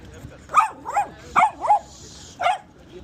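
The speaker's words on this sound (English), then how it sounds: "All the dogs back there barking at each other." Several dogs barking at each other during an afternoon walk on Vancouver Island, British Columbia: five sharp, mid-distance barks in an uneven rhythm over quiet outdoor background.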